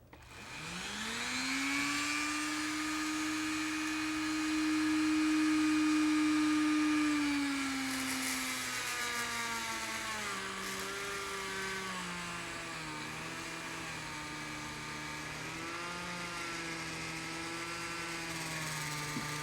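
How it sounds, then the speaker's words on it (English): A motor-driven wire wheel brush spins up and runs steadily, scrubbing grease from a postwar model locomotive wheel, a loud close whine that slowly drops in pitch as it works, with no talking. "just let the bristles of the wire wheel run in the groove like that, and they will pound that grease out"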